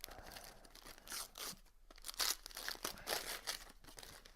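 Wrapping paper and heavily applied tape are ripped off a Christmas present in bursts of tearing and crinkling, close and fairly quiet, with short pauses between pulls and no talk.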